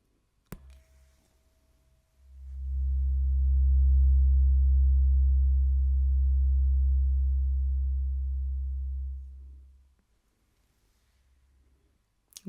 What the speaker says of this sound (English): I have a very low frequency tuning fork.